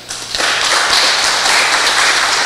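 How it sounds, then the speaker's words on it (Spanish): Audience members at an engineering conference in Peru's College of Engineers break into applause, which starts abruptly and holds as a loud, dense, even clatter of hands. "Un aplauso, por favor."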